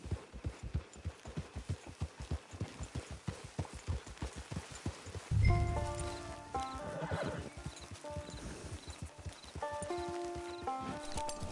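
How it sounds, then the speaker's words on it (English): In the Red Dead Redemption 2 video game, a horse's hooves clip-clop in a steady trotting rhythm, then it lets out a loud whinny midway, followed by more hoofbeats and a soft musical score. "Get your horse."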